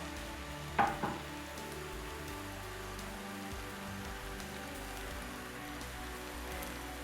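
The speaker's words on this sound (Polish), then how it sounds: "Do tego dodaję drobno posiekany czosnek i wszystko delikatnie podsmażam." Finely chopped garlic and onion fry gently in a pan, giving a soft, steady sizzle close by, with one brief clatter near the start and no voices.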